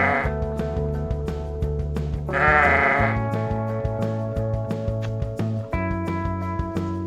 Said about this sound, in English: The baby sheep is called as